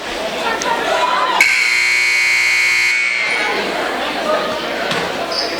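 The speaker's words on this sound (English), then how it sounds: "the second buzzer's went off" A basketball scoreboard buzzer at a Donettes vs Clearwater game sounds one loud, sustained electronic tone for about a second and a half over the murmur of a gym crowd.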